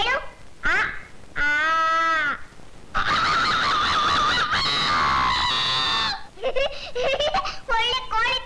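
A person imitates a chicken's cry with loud, warbling, squawking calls in bursts, one long stretch in the middle, with shouted talk and laughter between them.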